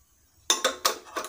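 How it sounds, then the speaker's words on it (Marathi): A pressure cooker is set down on a gas stove after a moment of silence, producing four quick, close metallic clanks and knocks in uneven rhythm. "सर्वात प्रथम आपण गॅसवर कुकर ठेवून"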